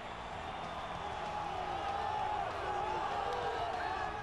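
Arena crowd in EA Sports UFC during a pay-per-view fight walkout, a steady roar of cheering and murmur with scattered clapping, continuous and fairly loud, with some speech mixed in.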